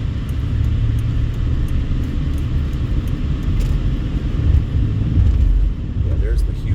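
A car cruising at speed on the 215 Beltway in Las Vegas, with a steady loud road and engine rumble throughout, swelling slightly near the end, and a voice talking over it.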